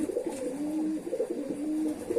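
A long-distance racing pigeon coos up close in repeated low, throaty rolls, a steady murmuring rhythm over faint room noise.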